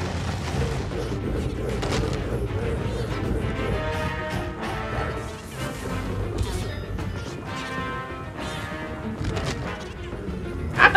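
Objects burst and crash in Luigi's Mansion 3, a run of sharp smashing impacts and booms scattered over game music and clatter, moderately loud throughout, with a bigger hit at the very end.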